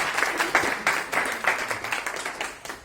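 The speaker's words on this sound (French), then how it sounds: "on les applaudit" Conference audience applauding speakers at an evening event, a dense burst of many hands clapping at close range that carries on steadily for a few seconds.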